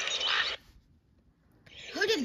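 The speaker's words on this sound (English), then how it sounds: "Common raven." A common raven calls in two bursts, a harsh bright call at the start and a longer croaking, grating call after a brief silence, heard close and clear.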